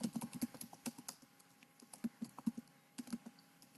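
Quick, uneven keystrokes on a computer keyboard as a product name is typed into a web store form, close and fairly quiet, in short bursts with brief pauses and no talking.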